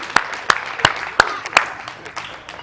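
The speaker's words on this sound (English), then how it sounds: "Give ourselves a hand clap." A church congregation claps its hands in a sparse, uneven rhythm, about five sharp claps in the first two seconds, then fading.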